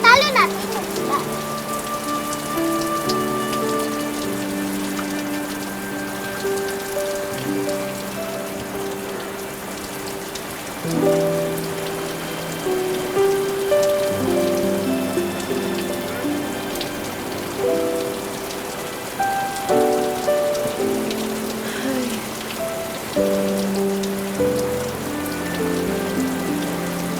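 Steady rain falls at night, a constant patter running under a sustained melodic music bed throughout.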